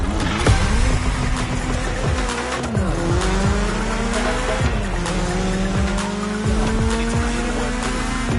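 A BMW M3 in The Crew Motorfest races hard, its engine loud and close, climbing and dropping through repeated gear shifts while the tires squeal and skid.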